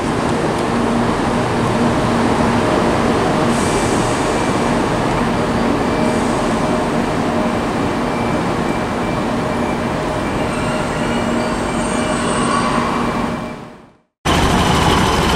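A Class 170 diesel multiple unit at Birmingham Snow Hill station gives off a steady, loud engine rumble with rail noise throughout, ending in a sudden brief cutout before the sound resumes.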